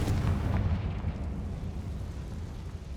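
A Confringo fire spell bursts in Hogwarts Legacy during a fight with spiders: a loud, deep explosive boom at the start that rolls off into a fading rumble.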